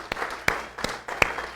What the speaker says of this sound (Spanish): Demos un aplauso fuerte al Señor y a estos jóvenes de Anahuín